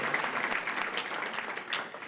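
Applause fills a hall at a student human relations awards ceremony, a steady, fairly soft wash of many hands clapping at once with no clear pauses.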